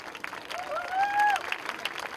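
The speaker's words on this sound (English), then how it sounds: "we cannot stop the applause" At an art festival stage event, an audience applauds steadily while voices murmur through the crowd and a brief high whistle-like tone rises over the clapping.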